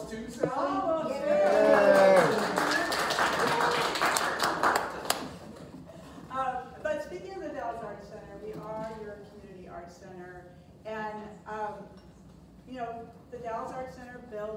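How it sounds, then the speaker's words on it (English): An audience at an artist's talk at The Dalles Art Center claps in a burst of applause for about five seconds, then the clapping fades as people start talking. "And we give you a round of applause too"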